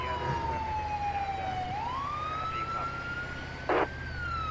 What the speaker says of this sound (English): I was cutting out the siren mainly so you guys can hear the actual real life call there